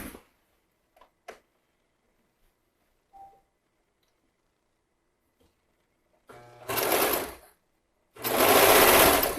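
A serger threaded with darker thread sews leggings in two short, loud bursts near the end, preceded by quiet clicks and handling sounds.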